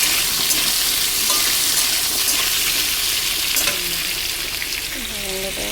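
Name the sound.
vegetables frying in a pan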